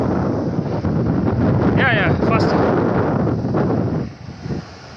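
Strong wind at a beach in India with caves nearby buffets the microphone in loud, rumbling gusts that ease off near the end, while a person briefly speaks.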